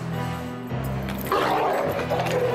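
A dog barks and growls loudly at close range in a few rough bursts, with a noisy indoor background.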